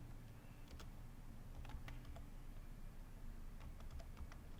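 Someone types on a computer keyboard while working in Excel, a quick irregular patter of light key clicks over faint background hum, with no speech.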